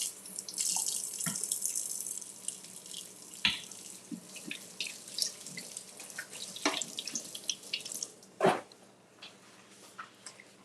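Kitchen tap water runs steadily while a spatula is rinsed under it before mixing a sauce for crab bombs, a close, continuous splashing with a few knocks and clatters in the sink.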